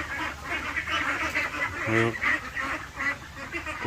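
Ducks quack in a busy, overlapping chorus close by, with one louder nasal honk standing out in the middle of the continuous gabble.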